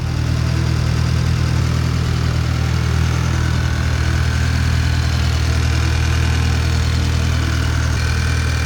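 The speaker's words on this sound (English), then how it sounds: "And now we're just gonna let it idle." A rebuilt Volkswagen 2.0T TSI engine idles, a loud, close, steady low rumble with a fine regular pulse that stays even for the whole stretch.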